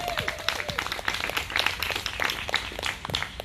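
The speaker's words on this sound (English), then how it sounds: "Let's give her another round of applause" A crowd at an outdoor climate and jobs rally gives a brief round of applause, with dense scattered clapping at moderate distance that is fairly faint overall.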